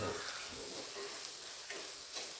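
Chili powder and coriander powder frying in hot oil in a pan for a Kerala fish curry, giving a steady close sizzle throughout with faint stirring.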